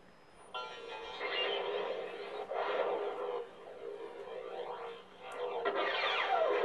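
An Arduino-driven LED string lightsaber plays its sound font, with a long ignition swell into a steady, flickering buzzing hum that dips and swells, then a sharp click and renewed hum.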